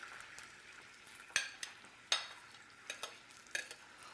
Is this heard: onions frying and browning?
yes